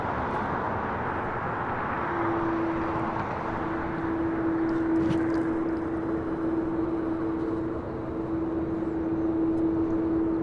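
Air Canada Boeing 787-8 Dreamliner departing LAX for Toronto, a steady broad jet roar with a sustained engine whine tone that holds loud and even throughout, no talking.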